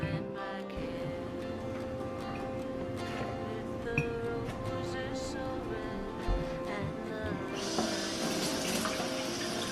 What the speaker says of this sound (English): Should rinse them with cold water really, really well.